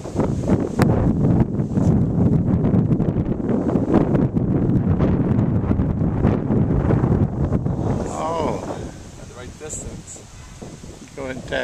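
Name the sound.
strong wind on a golf course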